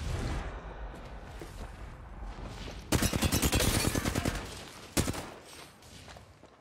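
Gunfire in the video game Apex Legends: a rapid burst of automatic shots, then a single sharper report and a fainter tail, heard alone.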